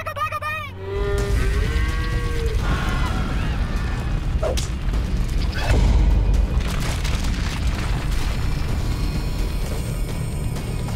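Deep cartoon cow moos from Teen Titans Go! start things off, then a loud, steady rumbling roar with booming impacts fills the rest, dense and continuous throughout.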